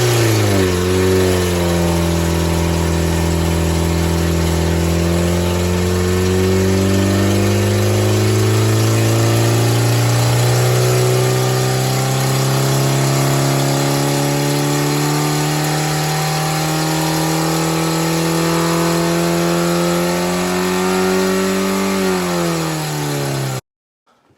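A stock scrapyard Ford Pinto engine on a Cortina exhaust manifold revs on a dyno, its loud tone climbing steadily, holding high, then dropping as the throttle is released.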